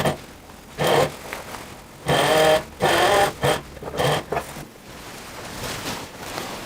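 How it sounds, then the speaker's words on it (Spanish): A sewing machine stitches along the edge of a classic women's shirt, its close mechanical whirring coming in several loud bursts of varying length separated by short pauses, with no talking. "Luego empezamos cosiendo la otra punta del orillo"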